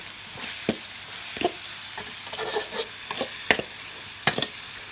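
Minced pork mixture for a Thai chili dip, nam prik moo, is stir-fried in a pan. Steady sizzling runs throughout, broken by irregular scraping strokes of the spatula.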